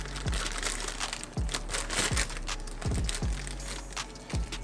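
Crisp plastic packaging crinkles and crackles in a run of irregular bursts while a turbo wastegate and its springs are unboxed, handled close up with no talking.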